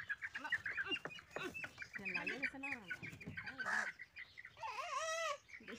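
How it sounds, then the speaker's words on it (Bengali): Chickens let out of their coop cluck and squawk loudly up close, with rising calls overlapping as people talk nearby. "মুরগি খুলে আইছি যা যা মুরগি খুলিছে"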